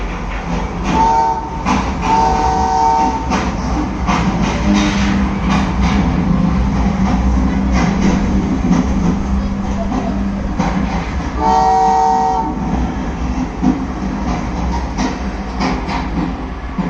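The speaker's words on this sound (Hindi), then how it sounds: "कुछ देर पहले आई मालगाड़ी अब सामान उठाकर पुराने स्टेशन की ओर रवाना हो रही है" Freight train departing from a station, its rumble and clickety-clack steady and loud throughout, with two horn blasts near the start and another around the middle.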